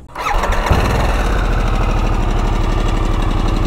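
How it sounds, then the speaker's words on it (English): Harley-Davidson Sportster S motorcycle engine cranks with a brief starter whine, catches and settles into a loud, close, rhythmic low idle rumble of steady pulsing beats. "let's start it up and I'll just show you what I mean in terms of the noise"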